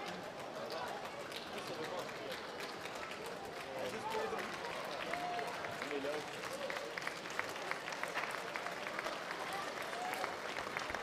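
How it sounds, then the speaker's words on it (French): At a youth under-11 football semi-final, supporters of both teams clap steadily for an injured player leaving the pitch, a continuous crowd patter with voices chatting nearby over it. "les supporters des 2 équipes qui applaudissent Delgoff qui sort du terrain"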